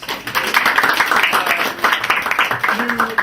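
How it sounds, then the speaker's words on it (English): Crowd applause at an improv comedy show in a pub, with dense clapping throughout, fairly loud, with a voice briefly audible near the end. "round of applause for improvisers"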